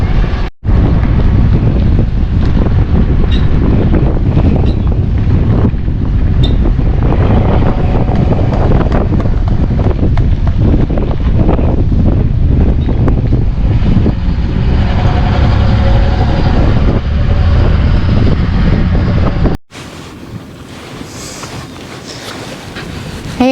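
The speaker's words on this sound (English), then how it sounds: "it's a windy March day" Strong gusts buffet the microphone on a North Country draft-horse farm on a windy March day, a loud continuous roaring rumble that drops away sharply near the end, with no talking.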